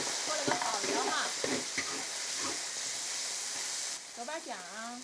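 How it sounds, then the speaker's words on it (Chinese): Pork kidney stir-fried in hot oil with ginger, garlic, celery and pickled chilies, giving a steady broadband sizzle with scraping stirs throughout, while a nearby voice talks over it. "油热下腰花儿，快速给它弄散"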